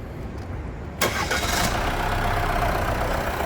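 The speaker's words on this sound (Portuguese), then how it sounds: "Vamos escutar esse funcionamento do motor." A Jeep Compass engine, with water pump problems, cranks over and catches, then settles into a steady, loud running rumble that continues to the end.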